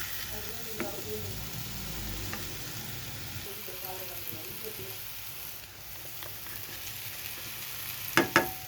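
Soyabean (meal maker) fried rice frying in a pan, a steady close sizzle with stirring scrapes throughout and two sharp clanks of a utensil near the end.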